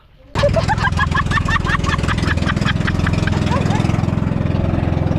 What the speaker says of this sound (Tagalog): Namamalya ang makina.